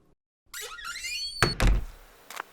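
A bathroom door creaks open with a rising, drawn-out squeal, then comes a few heavy wooden thumps and knocks, close and sharp against silence.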